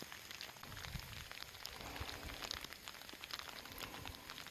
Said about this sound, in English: the sprinkles have turned into a steady light rain